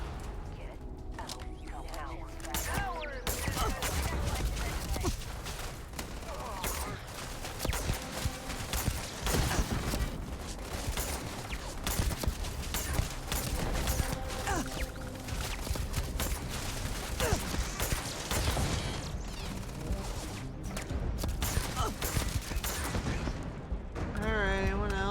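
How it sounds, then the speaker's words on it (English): Enemy gunfire in the sci-fi video game Starfield, dense bursts of shots and impacts layered with game sound effects that fill the whole stretch, while a player talks over it. "Someone's shooting at me, it's you."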